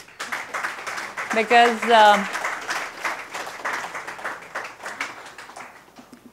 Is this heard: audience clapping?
yes